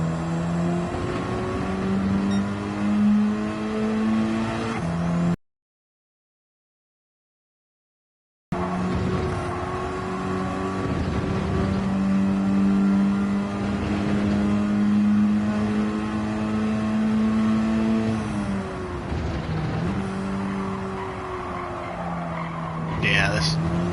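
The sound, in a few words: car engine driving in video game Gran Turismo 7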